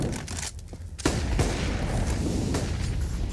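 AK rifle fire in a professional Counter-Strike match at IEM Rio 2023, with sharp repeated shots over constant arena crowd noise and game sound.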